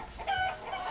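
Chickens clucking in the video game Limbus Company, a short burst of close, fairly loud fowl clucks with no talk.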